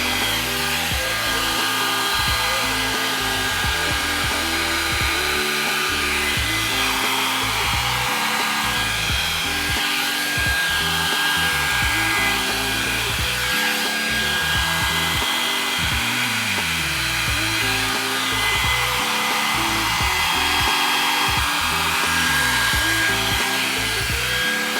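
A hair dryer blows continuously and loudly for the whole stretch while hair set in Velcro rollers is dried, its tone pulsing rhythmically as the airflow shifts, with no talk.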